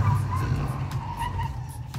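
A car drifts with the handbrake pulled, tires skidding and squealing over a steady engine drone, heard from inside the moving vehicle for a couple of seconds.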